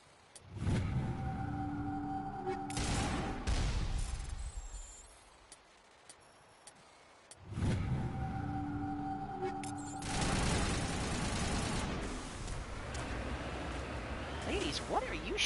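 Gunfire in the video game Mass Effect 1 comes in two long, loud sustained bursts separated by a quiet pause, then a further stretch of dense noise, with a voice talking over it.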